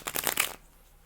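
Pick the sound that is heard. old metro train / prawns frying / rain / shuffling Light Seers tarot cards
shuffling Light Seers tarot cards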